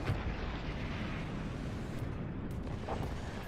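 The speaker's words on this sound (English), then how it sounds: "And another howitzer lands." A howitzer shell lands in the Forts RTS game with a deep, rolling explosion and a continuous low rumble, followed by a few faint crackles and pops.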